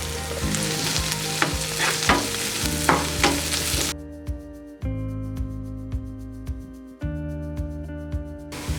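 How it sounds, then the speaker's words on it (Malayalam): Sliced onion sautéing in oil in a pan for a paneer curry, a steady close sizzle with stirring scrapes, then quieter tonal hum beneath the frying in the second half. "സവോള നന്നായിട്ട് വഴന്ന് വന്നിട്ടുണ്ട്."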